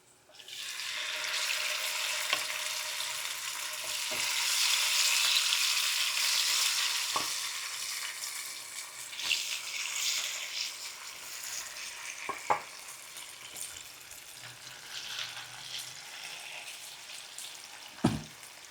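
Prawn 65 fries in a pan, a steady broadband sizzle that swells and then settles, broken by a few sharp clicks and knocks as pieces are turned, close and fairly loud with no talking.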